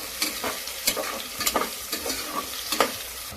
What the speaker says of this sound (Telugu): వేగనీయాలి. వేగినాక మటన్ వేసుకోవాలి.